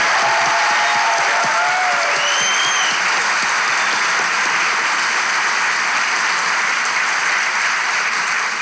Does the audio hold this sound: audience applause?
yes